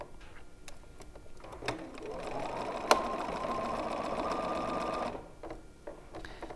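A sewing machine stitches curved quilt pieces, running in short bursts and then one long steady whirring run of several seconds, with brief clicks before and after.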